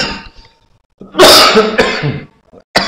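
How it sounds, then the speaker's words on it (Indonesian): One sharp, harsh cough bursts out close to the microphone after a brief pause, trailing into a raspy throat sound, then a short clearing at the end. "mohon maaf, lagi batuk"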